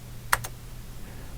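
Two quick key clacks on a computer keyboard attached to an Apple IIc, close and sharp, then quiet hum.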